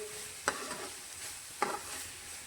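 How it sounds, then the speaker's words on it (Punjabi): Spoon stirring spiced masala frying in a pan on a gas stove for a quick dahi tadka, with two sharp scraping strokes over a steady low sizzle, close and fairly quiet. "ਇਹਨੂੰ ਫੇਰ ਹਿਲਾਉਣਾ ਵੀ ਹੁੰਦਾ ਨਹੀਂ ਤਾਂ ਜਿਹੜਾ ਮਸਾਲਾ ਥੱਲੇ ਲੱਗਣ ਲੱਗ ਪੈਂਦਾ"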